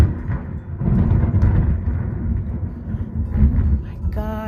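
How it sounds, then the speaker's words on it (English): Thunder rolls through a heavy rainstorm, deep rumbling swells rising and falling for several seconds, loud enough to shake a house, ending with a brief unrelated tone. "we are having a serious rainstorm, thunder and rainstorm right now"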